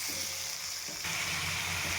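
Onion and tomato sizzle steadily in a hot oiled pan for tomato rice made from leftover cooked rice, a close, continuous frying hiss with faint stirring, alone.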